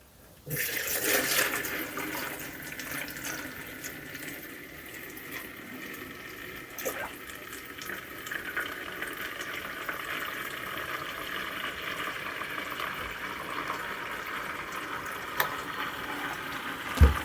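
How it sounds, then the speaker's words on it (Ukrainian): Cognac pours out of a container into a vessel, a steady close liquid stream and gurgle that carries on for many seconds with small splashes, without talk. "беремо наш коньяк і, і виливаємо його"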